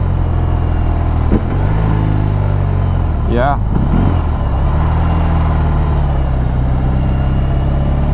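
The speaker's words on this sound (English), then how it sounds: "Motor sounds nice. This is stock exhaust system." The boxer engine of a 2022 BMW R 18 Transcontinental motorcycle with stock exhaust rumbles steadily at close range with a deep, even throb, while a voice briefly speaks over it midway.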